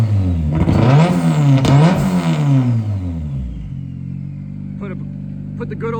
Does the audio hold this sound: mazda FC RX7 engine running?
yes